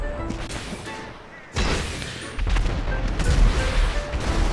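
Gunfire in GTA 5 as a player shoots at a ramp during a race, heavy booming bursts that jump in loudness partway through and continue as a dense, rumbling barrage.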